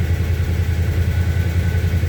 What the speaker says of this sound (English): The motor's got a little tick in it